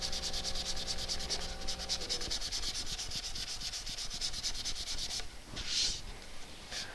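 Steady rhythmic rasping of sandpaper rubbed by hand back and forth along figured wood, close and continuous, with a faint background hum and no talking.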